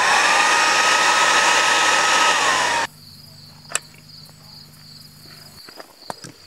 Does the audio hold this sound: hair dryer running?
yes